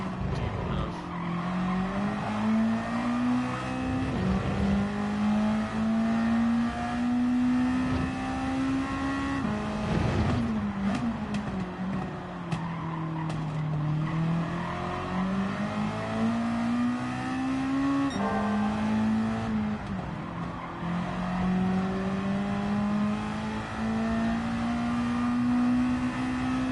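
A race car engine in a racing video game revs continuously, its pitch climbing and dropping through gear changes, with occasional tire squeal. No one talks over it.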